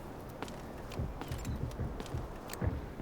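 Soft enemy footsteps in Delta Force, several light thuds close by in an uneven walking rhythm, with faint clicks and background hum and no talking.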